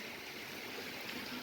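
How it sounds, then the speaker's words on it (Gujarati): Heavy rain with wind outside a flooded home in Jamnagar, a steady broadband rushing wash with no breaks, fairly faint and distant, without talk. "વરસાદ એટલો ને એટલો ચાલુ છે, સાથે પવન પણ એટલો જ ચાલુ છે."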